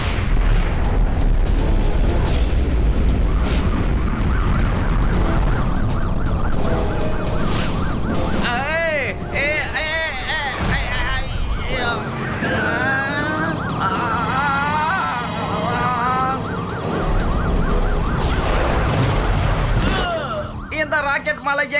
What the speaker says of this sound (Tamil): ராக்கெட் மலை எங்க இருந்து பா இப்படி பொழியுது?